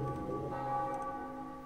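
Bells ring in Black & White 2 as sustained, overlapping metallic tones at moderate loudness, a short stretch of steady ringing with faint ticking accents and no voices.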